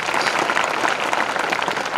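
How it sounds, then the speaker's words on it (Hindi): Steady applause from a classroom or hall audience of students clapping for a fellow student at a motivational session, dense and continuous throughout without talk. "इनके लिए भी ताली बजनी चाहिए।"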